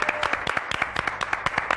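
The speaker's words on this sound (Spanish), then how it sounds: "Recibamos con un fuerte aplauso" Audience applause in a Mexican comedy TV studio as a comedian is introduced; a short burst of distinct, fairly sparse claps at moderate loudness, each hand strike separately audible.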